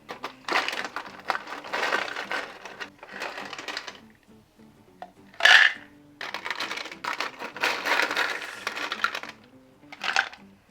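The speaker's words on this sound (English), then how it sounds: "Let me dish up a glass full of ice with some Sprite." Ice from a Frigidaire countertop ice maker is scooped into a glass in a series of rattling, clinking bursts, with a sharper crack of cubes near the middle and pauses between scoops.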